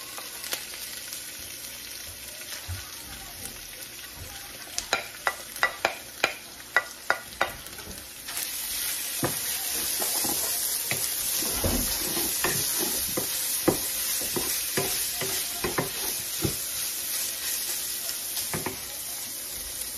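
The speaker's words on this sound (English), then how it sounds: "Cook this for about 5 more minutes to make sure the veggies are done." Meat and vegetables sizzling in a pan, a steady frying hiss broken by a quick run of sharp stirring clacks, then more scraping and stirring, with no talk.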